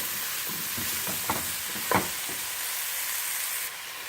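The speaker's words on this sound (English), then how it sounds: "So just stir this around for a few minutes" Red potatoes fry for veg biryani in a pan, giving a steady loud sizzle throughout, with a few soft scraping strokes from stirring and no voices.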